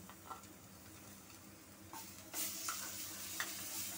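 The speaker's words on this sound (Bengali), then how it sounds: "এবার এর মধ্যে আমি রসুনের পেস্ট দিয়ে দিচ্ছি" Garlic paste fries quietly in a pan, giving a soft hiss with intermittent scraping bursts from stirring that grow slightly louder toward the end.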